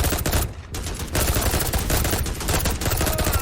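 Rapid gunfire in the Strike Force 3 shooter game on Xbox, dense loud bursts of automatic shots running nearly continuously with no talking.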